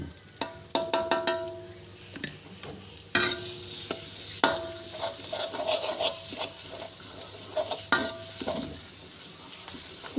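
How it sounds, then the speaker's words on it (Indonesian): Sharp metallic clanks of a spatula against a wok, then a burst of loud sizzling as spices fry, continuing with steady stirring and occasional knocks. "Saya masukkan lagi ke dalam wajan. Saya tumis sebentar. Saya tumis lagi sebentar."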